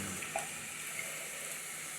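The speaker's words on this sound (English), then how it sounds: "I'm going to put some boiling water in this bowl what I use to season my meat" Boiling water poured into a bowl over seasoned pork for Jamaican brown stew, a soft steady watery hiss with a couple of faint splashes, fairly quiet and continuous.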